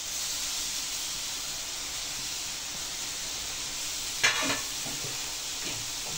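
Crumbled chhena, fresh cottage cheese, dropped by hand into a hot frying pan, giving a steady close sizzle with a brief louder crackling burst partway through and a few smaller spits after.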